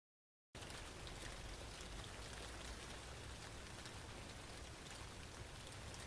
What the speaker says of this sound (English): Is it raining outside?